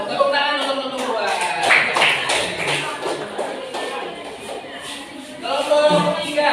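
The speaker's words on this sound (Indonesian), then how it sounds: "Tepuk tangan untuk kelompok dua." Classroom clapping for a student group, an uneven patter of many hands at moderate volume, mixed with voices talking at the beginning and again near the end.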